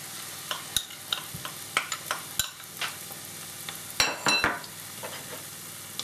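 Condensed milk being stirred into dudhi halwa in a pan, soft scraping stirs and wet clicks with a faint sizzle in irregular strokes, close and fairly quiet, no talking.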